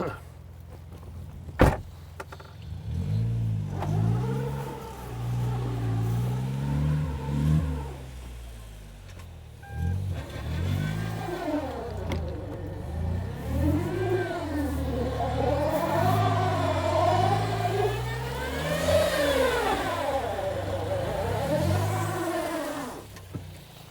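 A car stuck on its belly with the driver trying to drive forward, the engine revving and rising and falling in repeated surges after a brief knock, loud and close throughout.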